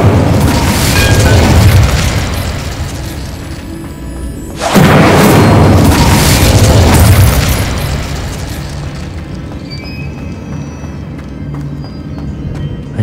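The Incendio fire spell in Hogwarts Legacy goes off in two loud, booming bursts about four seconds apart, each followed by a fading roar of flame and game ambience.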